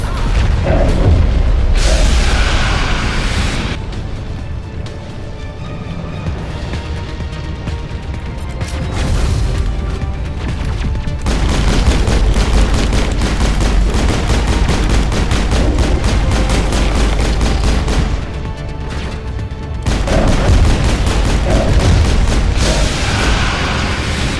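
Gunfire in the Mass Effect video game, loud sustained bursts of shots and booms that run almost continuously, with brief lulls between volleys and no speech.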